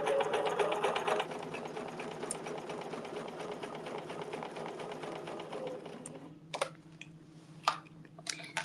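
Sewing machine stitching a quilting design in a steady fast mechanical whir, running loud and continuous before easing off near the end, followed by a few sharp clicks and handling noises.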